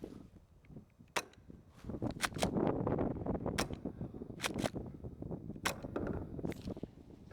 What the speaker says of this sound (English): Let's see what a Golden Eagle gas shotgun will do to it.